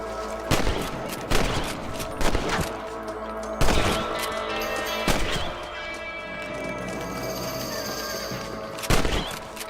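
Rifle shots ring out one at a time in Red Dead Redemption as a ranch hand picks off rabbits among the crops, several loud sharp cracks spaced irregularly over a busy game ambience with a horse whinnying.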